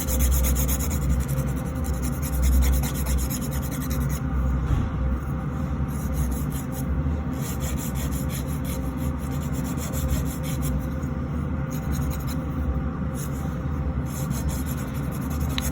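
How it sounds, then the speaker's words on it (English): A medium-grit nail file rasps side to side across a fingernail during a salon manicure, a steady close scratching that continues without pause and without talk. "filing side to side is perfectly fine"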